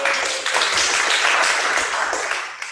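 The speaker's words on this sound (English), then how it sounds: "see, I already got more claps than you" A conference audience at a dementia care talk breaks into steady, dense clapping, loud and sustained for a few seconds with no voices over it.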